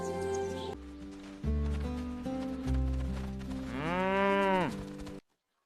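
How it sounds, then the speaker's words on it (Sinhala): Cattle low loudly in a string of long, drawn-out moos, with one rising, strained bellow near the end, as a herd of cows and goats is driven back to a village in the evening; no talk. "හැන්දෑවට ආයෙත් ගවයින් සහ එළුවන් දක්කගෙන"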